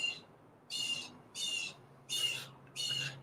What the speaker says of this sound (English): Can you hear that? Bird's loud.